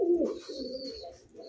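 A caged pigeon gives a low, soft coo close by, a short rolling phrase followed by quieter murmurs, with a faint high hiss behind it.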